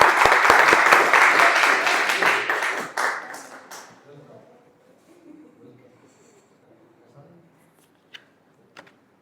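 Audience applause at a Toastmasters impromptu-speaking session, a dense burst of clapping for about three seconds that thins into scattered claps and fades, followed by quiet room noise and a couple of isolated sharp taps.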